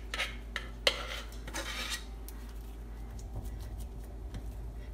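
A regular spoon scraping homemade playdough onto a floured surface, heard as close rasping and scraping with a few light clinks of the spoon, fairly quiet against a low steady hum.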